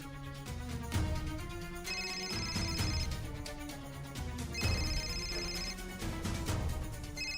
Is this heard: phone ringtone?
yes